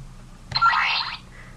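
A single short electronic activation effect from a Go-Buster DX Buster Gear toy, a bright springy warble lasting about half a second, clear and close against quiet background.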